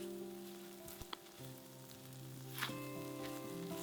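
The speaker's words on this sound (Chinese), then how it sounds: "开中小火慢慢炒香，这个过程要有耐性哦，火太大香料会炒焦变苦。" Spices stir-frying slowly in a pan over medium-low heat for Indian rojak sauce, a steady soft sizzle with a few light clinks of a utensil, fairly quiet and alone.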